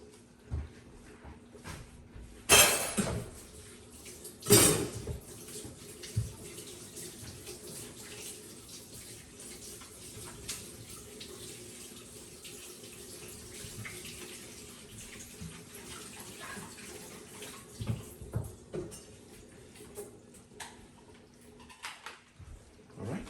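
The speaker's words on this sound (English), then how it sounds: "I'm just going to cut the top portion and just rinse it." Running tap water rinsing a head of celery at a kitchen sink while making vegetable stock, a steady close splash with a couple of louder bursts near the start.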